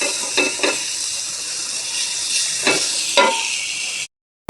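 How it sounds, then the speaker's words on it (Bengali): Onions frying in hot oil, being browned into crispy beresta, give a steady close sizzle with a few louder stirring scrapes; no one talks, and the sound cuts off abruptly near the end. "তেলে আমি পেঁয়াজ তুলে দিয়ে দিলাম বেরেস্তা করে নেওয়ার জন্য।"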